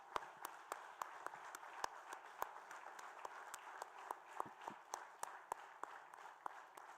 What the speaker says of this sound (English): Let us give a round of applause to the degree recipients.